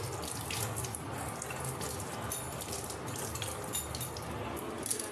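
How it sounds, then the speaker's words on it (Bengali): Hands being washed under a running kitchen tap, a steady close rush of water with small splashes throughout. "ভালো করে আমি হাত ধুয়ে নিলাম"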